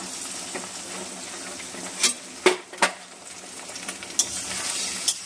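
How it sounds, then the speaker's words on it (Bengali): An egg frying in oil in a pan for chilli pasta, giving a steady soft sizzle broken by a few sharp clinks of a utensil against the pan, with no talk. "ভালো করে তেলে একটু ডিমটা ভালো করে ভাজা হয়ে যাক একটু, তারপরে একটু নেড়ে দেবো ডিমটা"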